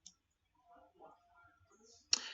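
A computer mouse gives a crisp, close click near the end, after a soft tick at the start and a quiet stretch of faint background murmur.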